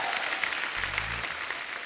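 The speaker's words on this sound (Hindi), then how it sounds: "एक बार जोरदार तालियां जॉन और दिव्या के लिए" Studio audience at The Kapil Sharma Show comedy show breaks into dense, steady applause, a continuous wash of many hands clapping at close range for the full stretch, with no talk over it.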